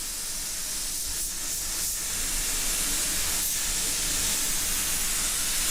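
A spray gun lays heavy wet coats of custom car paint, making a continuous loud airy hiss that stays even throughout with a few slight pulses early on, close by with no talk.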